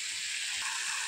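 Small fish frying in a pan for an Assamese khar dish, a steady loud hiss and crackle of hot oil running throughout without a break, with no voices.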